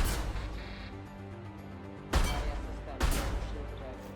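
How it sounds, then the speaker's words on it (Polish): Two sharp, loud sniper rifle shots fire about a second apart in Mass Effect 2, each ringing out over a steady low game background hum. "Trzy strzały ze snajperki trochę dużo"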